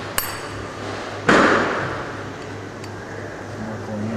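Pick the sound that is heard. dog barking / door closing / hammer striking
hammer striking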